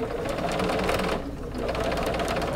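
A sewing machine stitches binding close to the edge of a reversible quilted tote bag, running in a loud steady whir with rapid needle clatter, pausing briefly midway before starting again.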